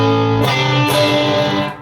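An electric guitar plays through a Chase Bliss Brothers AM pedal set for distortion into a Tonex One, giving sustained, thick, fuzzy chords that ring on, change, and fade near the end.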